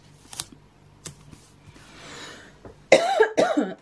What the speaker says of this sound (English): I thought I was gonna start having a coughing fit.